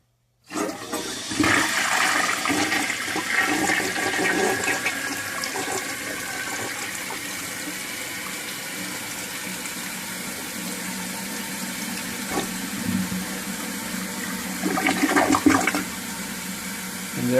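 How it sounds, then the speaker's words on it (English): A 1958 Canadian Standard Cadet toilet flushes with a loud rush of water, then settles into a long, steady hiss as the tank refills, with a brief swell near the end. "Or when I flush it."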